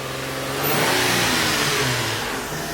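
A freshly rebuilt Nissan 350Z engine revs loudly and steadily near the mic on its first start, a sustained roar without any voices.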